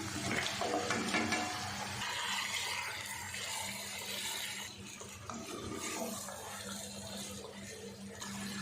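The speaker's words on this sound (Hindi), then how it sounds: "अब 2 किलो हम इसमें चिकन डाल देते हैं।" Two kilograms of chicken tipped into a pot with coarse green chili paste for chicken pulao, sizzling and scraping with stirring clatter that is loud at first and then settles into a steady fry.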